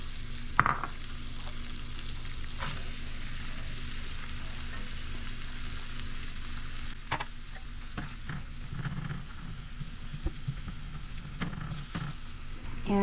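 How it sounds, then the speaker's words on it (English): Celery and onions sauteing in a pan give a steady sizzle and fry throughout, with a few scattered clicks and stirring knocks in the foreground and no talking. "we're going to saute the celery and the onions."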